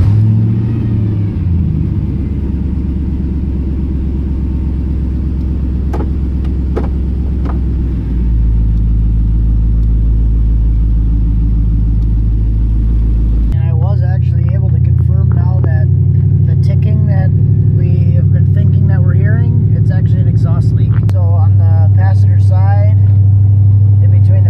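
An LS-swapped Ford Ranger pickup drives off with a loud, close V8 rumble that climbs through revs and shifts, engine droning steadily with a voice talking over it at times.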